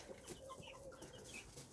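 Backyard hens clucking, a mixed flock of Orpingtons, leghorns, white American silkies and Seabright hens, giving soft, steady low clucks and small calls close by with no voices.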